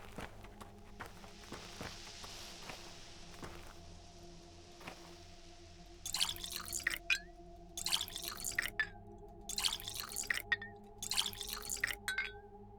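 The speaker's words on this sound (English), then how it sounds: "Let's fill up more bottles." Water bottles being refilled in the video game Pathologic 2, with repeated bursts of pouring and splashing at a regular rhythm over a low, steady background hum.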